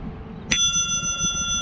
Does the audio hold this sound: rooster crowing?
no